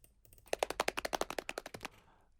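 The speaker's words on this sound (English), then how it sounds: "it's this percussion loop which sounds like this" A fast, clattering experimental percussion loop from a drum and bass context, with rapid regular knocking hits that roll like a horse galloping, loud and dry, then stopping abruptly.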